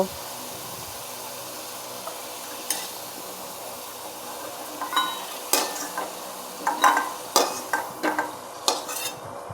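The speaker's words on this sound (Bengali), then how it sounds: "এখন আমি সেই কড়াইতে আরও সামান্য তেল দিয়ে কেটে রাখা আলুগুলিকে ভেজে নেব" Potatoes fry in a wok under a soft, steady sizzle, joined later by a quickening run of metal spatula scrapes and clinks against the pan.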